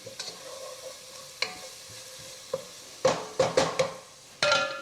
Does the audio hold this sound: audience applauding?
no